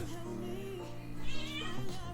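A house cat gives a faint meow in the background, quiet and brief, with a steady tonal hum underneath.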